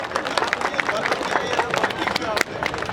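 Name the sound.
audience clapping at cricket tournament ceremony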